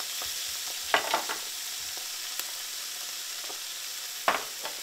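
Eggs frying in a pan give a faint, steady crackle, broken by a few sharp pops and spatters at irregular moments, with no talking.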